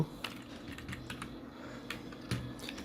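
Quick clicks of a computer keyboard as a search is typed, a soft close run of uneven keystrokes with a few louder taps and no one talking.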